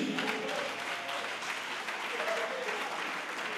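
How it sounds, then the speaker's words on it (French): A church congregation claps together in sustained, steady applause, with voices mingling in the crowd noise throughout. "Acclame Jésus."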